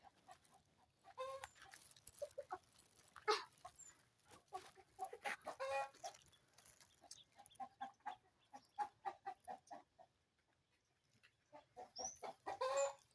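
Chickens clucking and calling in irregular bursts, fairly close, with a quiet pause near the end before the clucking resumes.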